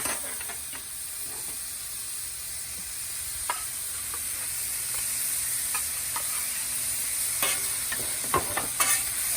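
Fresh apricots caramelize with brown sugar and butter on a hot griddle, giving a steady close sizzling hiss with a few sharp spatula scrapes and taps toward the end.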